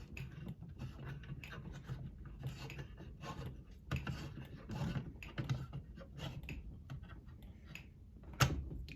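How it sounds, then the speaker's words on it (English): Screws are tightened back into a Fire-Lite fire alarm pull station during a system test: quiet, close, irregular clicks, ratcheting and rubbing of a screwdriver and metal parts, with no talking. "Start tightening back up the pull station."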